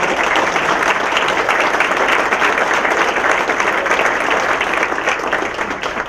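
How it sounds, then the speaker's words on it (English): Dense, steady applause from a dinner audience at the Piqua Area Chamber annual dinner at the Piqua Country Club. Many hands clap loudly and evenly for several seconds, then begin to thin slightly at the end. "if we can give them a round of applause"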